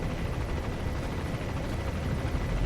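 A helicopter in the video game Metal Gear Solid V roars with a dense, steady rotor and engine wash that stays loud and unbroken throughout, with no talk over it.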